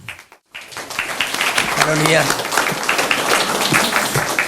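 Congregation applause welcoming the pastor to a new church's dedication worship service, steady mid-level clapping that swells after a brief pause and keeps going beneath a voice saying a short word and some organ tones.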